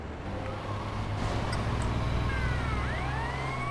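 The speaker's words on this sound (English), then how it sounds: "Turning on the sirens" Fire truck siren in the video game GTA Vice City Stories, its wailing tone rising and falling over a steady engine drone, growing more prominent toward the end.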